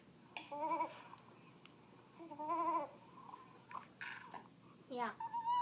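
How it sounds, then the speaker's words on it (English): Baby bleating like a goat, two drawn-out wavering cries with shorter squeals between them, close and fairly loud in a quiet room. "He sounds like a goat."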